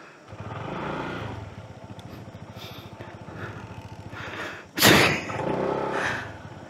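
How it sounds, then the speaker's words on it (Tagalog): A motorcycle engine idles and creeps through a tight passage, with a sudden loud scraping thud from underneath partway through, then the engine rumbles on. "Baka lumusot naman dito yung motor natin. Oops, sumayad na nga."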